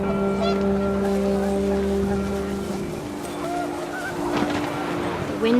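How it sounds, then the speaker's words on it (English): Panicked geese honk in a windy outdoor scene in the video game What Remains of Edith Finch, a few sharp calls rising over steady wind and a low droning background, with a wash of water-like noise near the end. "panicked geese appeared and quickly went"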